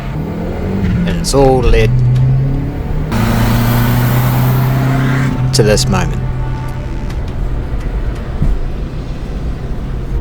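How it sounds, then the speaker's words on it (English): A Mazda MPS fitted with a swapped Subaru EJ turbo engine, heard from inside while driving: a steady engine drone that swells slightly as it pulls, running under continuous talking. "I'm driving my new EJ powered MPS"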